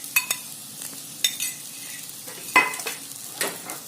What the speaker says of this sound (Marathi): तो आपण आता याच्यात थोडा शिजून घेणार आहोत, म्हणजे मिरच्यांना बाहेरून पण छान कोट होईल मसाला